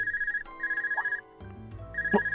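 A portable orbment rings in the Trails of Cold Steel video game, a steady electronic trilling ring in two bursts with a short pause between, over quiet game background.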